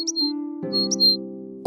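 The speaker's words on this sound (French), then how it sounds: "elle recevait la visite d'un joli pigeon blanc" A white pigeon in a Cinderella cartoon makes two short, high chirping calls over sustained soft musical tones, each call brief and clear.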